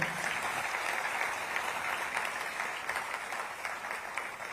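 Sustained audience applause at a public event honoring Uttar Pradesh police, a steady, moderately loud wash of many hands clapping that continues evenly for several seconds.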